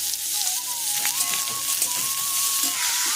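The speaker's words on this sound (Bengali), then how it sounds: "অল্প তেল দিয়ে এতে গোটা জিরে আর সর্ষে ফোড়ন দিলাম এবার কেটে রাখা পেঁপেটা দেবো" Whole cumin and mustard seeds sizzle in a little hot oil in a pan, with cut papaya about to go in: a steady close-up crackle and hiss, with a faint thin whistling tone running through it and no talk.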